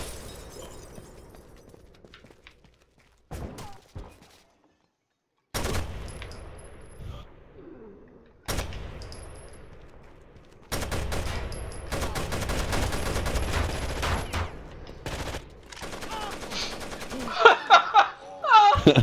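Light machine gun fire in Rainbow Six Vegas 2 comes in loud, close bursts separated by brief quiet gaps, building into a longer sustained volley with sharp cracks and impacts near the end.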